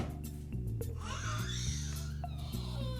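A granddaughter fusses and wails in the background of a room over a steady low hum, with faint voices and scattered higher cries.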